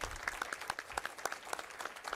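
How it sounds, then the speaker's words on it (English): Applause from an audience at a Tulsa city council meeting, a steady wash of many hands clapping at moderate volume for a couple of seconds, with no talk over it. "we can clap right there"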